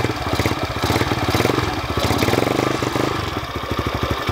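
A new Apollo 250cc dirt bike engine runs steadily close by, a pulsing, throbbing idle with slight rises and dips, alone with no talk over it.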